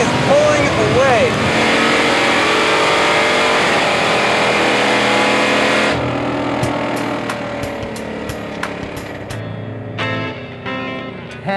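A 1968 Dodge Charger with a 707-horsepower Hellcat engine screams while accelerating hard in a race, its loud revving engine note climbing through the gears before easing and fading, with scattered clicks and noise at the end.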